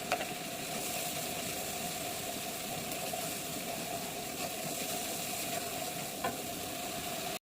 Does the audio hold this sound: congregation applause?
no